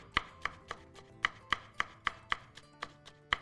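A knife chops peppers finely on a board in a kitchen, about a dozen crisp, evenly spaced cuts landing close to the microphone with no voices over them.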